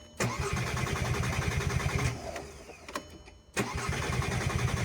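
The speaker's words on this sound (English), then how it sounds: "So I'm gonna clutch in, put the key in, and just crank the car." A 2006-2009 VW Rabbit with a 2.5-liter engine cranks on the starter during a fuel pump replacement, a rapid rhythmic chugging that pauses briefly twice and resumes, close and fairly loud, without catching.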